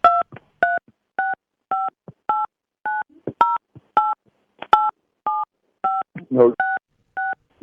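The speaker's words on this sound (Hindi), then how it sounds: "आप अपने मोबाइल फोन से अपना डेबिट कार्ड का 16 अंक का जो नंबर है वो डाल देना।" Telephone keypad tones as a 16-digit debit card number is keyed into a mobile phone: a steady series of about fifteen short, evenly spaced beeps, close and clear, with a brief voice near the end.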